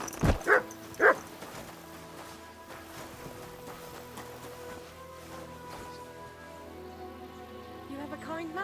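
A dog barks a few times in Kingdom Come: Deliverance II, with two or three sharp, close barks early on followed by quieter whimpering and background game sounds, and some talk in the mix.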